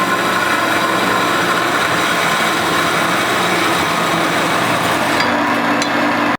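A power tool cuts through excess metal tubing on handmade board-track style motorcycle handlebars, giving a loud, steady, harsh grinding whine that runs unbroken for several seconds before stopping abruptly.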